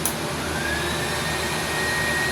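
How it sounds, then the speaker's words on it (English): A vacuum cleaner runs steadily off an Aferiy P310 solar generator power station, a continuous loud motor whine and airflow roar holding level throughout with no speech. "I'm going to try to overload it with the vacuum cleaner."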